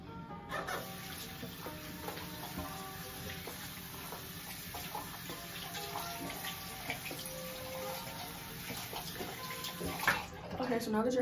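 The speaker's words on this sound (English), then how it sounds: "wash those hands." Hands washed under a running tap give a continuous close splash and trickle of water, with small shifts in the flow and a brief surge near the end.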